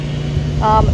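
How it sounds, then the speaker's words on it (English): A lawn mower drones steadily nearby, a loud continuous low engine hum filling a garden during yard work, with a brief higher tonal whine near the end. "mowing at the moment."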